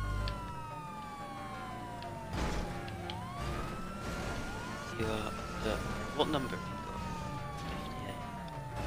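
Wailing police car sirens in the game Grand Theft Auto 5 Online rise and fall repeatedly under engine noise, with sweeping tones and a brief crash, while players talk over the top.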